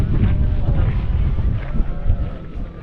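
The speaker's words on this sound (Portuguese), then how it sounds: "Tá mó vento gelado aqui" Cold wind sweeps across the Salar de Uyuni salt flats in Bolivia, buffeting the microphone in a continuous low, gusty roar with uneven surges.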